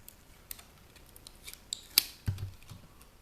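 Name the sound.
peeling wires off an e-waste circuit board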